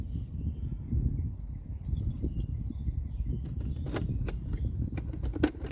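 A bunch of caravan keys jangles and clinks as they are tried one after another, close and moderately loud over low rumbling background noise, with scattered metallic taps.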